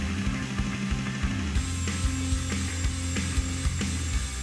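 A spray-foam chin on a handmade Tar Man zombie prop is cut away, giving rhythmic rasping strokes with soft scraping and clicks, steady and close, with no talk.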